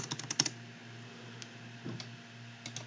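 A computer keyboard clicks under fingers typing a drawing command in AutoCAD: a quick cluster of light keystrokes at the start, then a few scattered, faint taps against quiet room hum.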